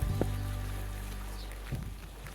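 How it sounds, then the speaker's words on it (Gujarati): Rain falls steadily over Balisana village in a continuous, even wash of hiss with a low hum beneath and no distinct drops standing out. "જો સામે વરસાદ ચાલુ જ છે"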